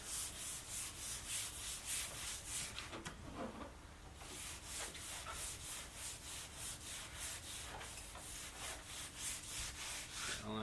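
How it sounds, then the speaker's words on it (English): Clear coat being smoothed by hand with a steady rhythmic rubbing and sanding, strokes repeating close up, with a brief pause midway before the strokes resume. "All I'm doing is smoothing out the clear."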